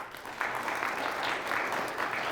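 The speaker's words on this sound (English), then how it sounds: "how about another round of applause, because the clapping at the beginning of the show was so good, for the Byron Tigers" Applause for the Byron Tigers quiz bowl team at a Bergstrom State Line Quiz Bowl match against Pearl City, a brief, moderately loud spell of many hands clapping at once.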